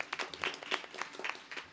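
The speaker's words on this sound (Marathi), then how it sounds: "महिला मंडळ टाळ्या वाजवायच्या असल्या तर मनापासून वाजा" Sparse, uneven clapping from women in the audience at a kirtan, a handful of separate hand claps scattered without a steady rhythm, quiet and thin.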